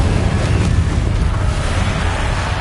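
Fire spell effect in the video game Hogwarts Legacy, a dense, continuous whooshing roar of flame with a heavy low rumble, loud and unbroken throughout.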